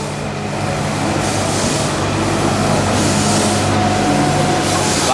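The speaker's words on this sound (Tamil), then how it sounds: "வாங்க என்னோட சேர்ந்து மலை ட்ரெயின் எந்த மாதிரி போகுது" The Ooty mountain train runs with a steady, loud rumble and rattle of rolling carriages, heard from on board without a break.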